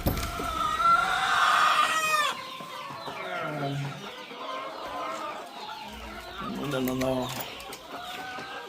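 Boschveld chickens on a farm, a rooster crowing loudly up close followed by several rounds of hens clucking and cackling, with a brief spoken word.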